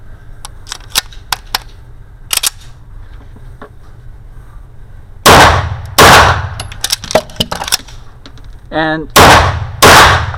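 A Bul 1911 single-stack 9x19 pistol firing MagTac ammunition: several loud, sharp shots in two close pairs, preceded by small mechanical clicks and handling noise, with a brief voice.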